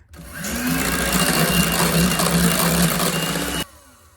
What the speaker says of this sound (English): I pulled out my electric mixer again to incorporate the hardened Jello into the cream cheese mixer